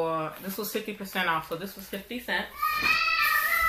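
Children chatter and make noise at home in the background during winter break while someone talks close by over them.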